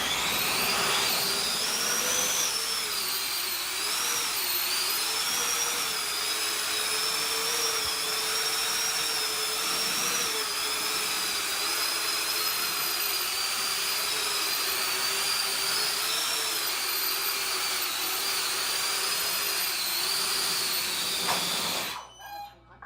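A drone hovers in an indoor flight test with a loud, steady high-pitched whine of spinning propellers that wavers slightly in pitch throughout, then cuts off abruptly at the very end.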